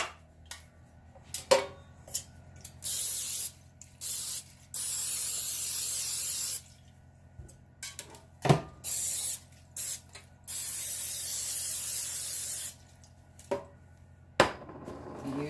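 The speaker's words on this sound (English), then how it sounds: "let's give these a spray" Cooking spray hisses onto baking pans in several short bursts of a few seconds each, separated by light clatter and handling, close by with no talking.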